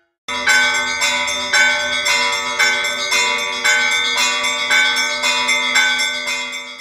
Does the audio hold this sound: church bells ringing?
yes